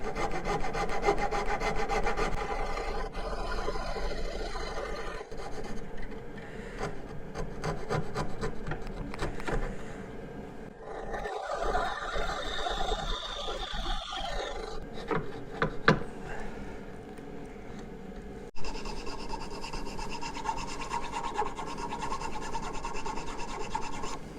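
A hand saw rasps steadily through wood while a heart-shaped hole is cut for a Valentine's Day gift, continuous close strokes over about twenty-four seconds with a few brief pauses.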